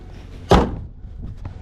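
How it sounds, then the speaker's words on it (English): Hood of a Ford 7.3 Powerstroke truck slamming shut on weak shocks: one loud, close metallic bang followed by brief rattling and faint movement. "Slammed the hood in my face"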